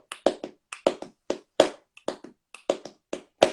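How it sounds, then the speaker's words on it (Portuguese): Flamenco palmas handclapping in a 12-count compás: sharp, close claps in a syncopated pattern, some strokes paired in quick doubles and accented beats louder, with short gaps between groups and no voices. "Combinar as duas palmas, né?"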